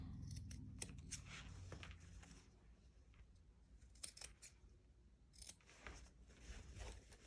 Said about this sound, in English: I'm going to trim it at the corners and on the sides.